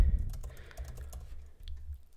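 Typing on a computer keyboard while entering an email address into an online signup form; soft, rapid clicks run steadily through the short stretch over a low background hum, with no talking.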